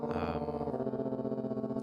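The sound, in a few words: distortion effect on beat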